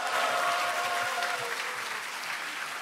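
Audience applauding at the Democratic Party of Korea's 70th anniversary ceremony, a dense, sustained wash of clapping from a large crowd that eases slightly toward the end.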